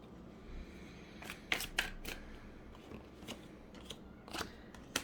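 Tarot cards flipped over one after another on a table, giving soft, quiet snaps and papery flicks at irregular intervals against a hushed room.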